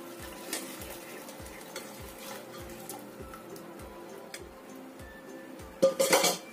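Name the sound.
adding and straining palm sugar syrup in a pot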